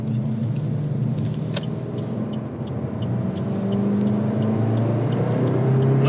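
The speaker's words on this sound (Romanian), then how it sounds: "Ce elastic e motorul ăsta." A Suzuki Vitara engine accelerating on the road, a steady close engine rumble that builds slightly in pitch and loudness toward the end, with no talking.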